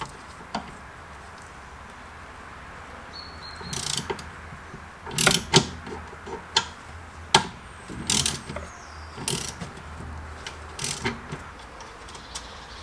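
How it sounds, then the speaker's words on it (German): Ratchet and open-end wrench loosening the brake caliper bolts on a VW Golf 4 during a brake overhaul, giving bursts of close metallic clicking and ratcheting with sharp clanks, spread irregularly over steady low background noise, no talking. "Hier müsst ihr halt mit dem Maulschlüssel drauf, hier hinten mit einer Ratsche ganz normal."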